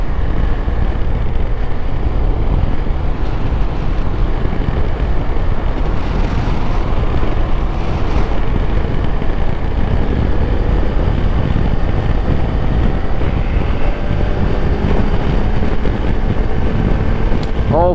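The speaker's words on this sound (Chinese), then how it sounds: "横向的风很大，横向的风很大" Strong crosswind buffeting while riding a Suzuki V-Strom 250 motorcycle at speed on the road, a loud continuous low roar of wind and engine with no letup.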